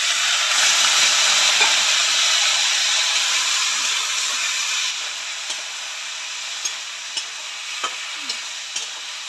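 Water splashed into a hot pan of fish curry with fried mourola fish, sizzling and hissing loudly at first, then settling into a quieter simmer with a few small pops and clinks.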